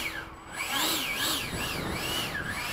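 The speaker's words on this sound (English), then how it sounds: "What's that whistle though?" A warbling, oscillating whistle from an FMS 70mm A-10 V2 model jet with electric ducted fans, rising and falling in pitch in repeated sweeps over a steady high rush, close and fairly loud.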